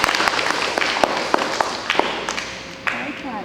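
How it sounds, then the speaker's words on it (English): Young children at a Year 1 school assembly clap for three classmates, a loose scattered patter of hand claps with some sharper taps and thumps, fairly close, with chatter underneath. "big round of applause."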